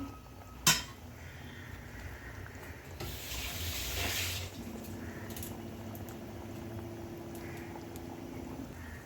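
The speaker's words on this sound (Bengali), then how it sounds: "এবার আমি একটু নেড়ে দেব" Katla fish kalia being stirred in a pan: a sharp metallic clank at the start, then a swell of scraping and sizzling over a low simmering bubble, with no talking.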